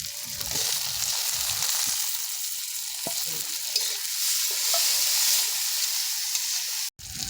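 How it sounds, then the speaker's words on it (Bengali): Chopped tomato, ginger and garlic fry in hot oil for katla kalia, a Bengali fish curry, making a loud, steady hiss with spatula stirring scrapes close by and a brief cut near the end. "এবারে দিয়ে দেবো টমেটো কুচি।"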